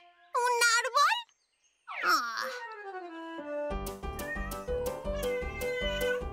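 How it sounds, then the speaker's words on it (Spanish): A cartoon Scottish wildcat meows with drawn-out, wailing, pitch-bending cries, followed by a bright, upbeat musical sting with plucked, bouncy notes. "Es un gato escocés, lindo, pero salvaje"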